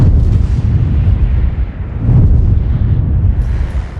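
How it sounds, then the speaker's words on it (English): Explosions from a film's recreation of the Japanese World War II bombing of Darwin, heard as heavy, continuous rumbling blasts with swelling booms, loud and dense with no speech. "the Japanese bombers come over and bomb Darwin"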